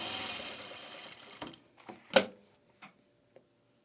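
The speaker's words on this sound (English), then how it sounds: "Just keep your stitching inside the seam allowance." A sewing machine stitches around the perimeter of a fabric travel bag, a fast mechanical whir that slows and stops, followed by a few scattered clicks and handling knocks in a quiet room.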